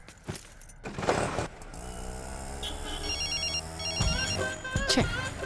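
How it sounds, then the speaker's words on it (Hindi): A phone ringtone chimes in repeated short electronic bursts over rumbling auto-rickshaw noise and scattered clanks, moderately loud and nearby. "फिर से फोन कर रही है।"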